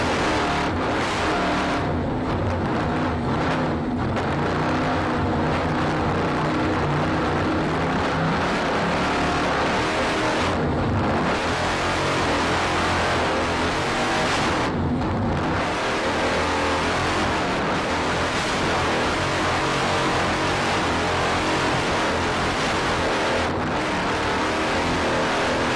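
An offshore racing powerboat at a Chicago grand prix roars loud and continuous for the whole stretch, its engine note rising and dipping as the throttle is worked.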